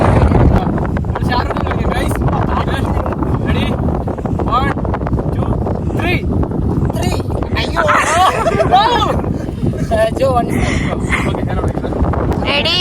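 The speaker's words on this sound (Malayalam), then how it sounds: "നല്ല കാറ്റുണ്ട് കേട്ടാ" Strong wind buffets the microphone on a rocky hilltop, a loud, steady rumbling roar that lasts throughout. Several people talk and call out over it.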